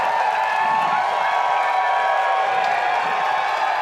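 A disc golf tournament crowd at a final round cheers and applauds in a steady roar of voices and clapping, sustained and even throughout, heard from a moderate distance with no clear talk over it.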